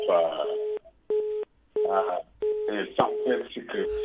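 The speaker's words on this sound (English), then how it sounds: "your phone line is constantly beeping and that noise can be distracting" A telephone line beeps repeatedly with steady tones sounding under and between a voice talking over the phone, the beeps recurring at short intervals.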